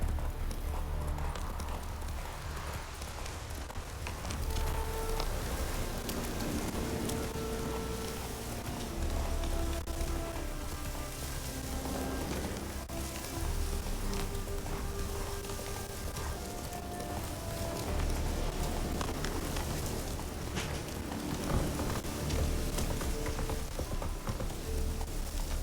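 Horse hooves gallop in steady clip-clop rhythm throughout a long ride in Witcher 3, close and continuous over a low ambient bed, with no one speaking.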